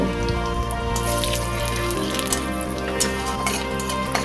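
Bay leaves and whole cumin seeds sizzle in hot oil in a pan, a steady crackling hiss with scattered sharper pops, heard close over a faint background hum.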